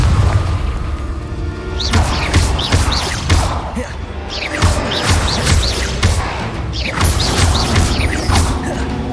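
Repeated Confringo spell blasts in the Hogwarts Legacy video game, heavy booming impacts with crackling mechanical debris, loud and close, landing in an irregular series through the clip.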